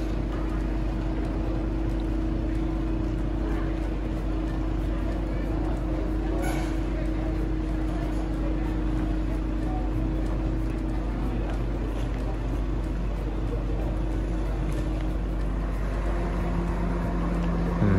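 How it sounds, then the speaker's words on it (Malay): A passenger motorboat carries villagers along a river at Pekan Song, Sarawak, its engine holding a steady low drone throughout, with voices talking over the hum. "Itu adalah satu bot penumpang dari sekitar daerah Pekansong"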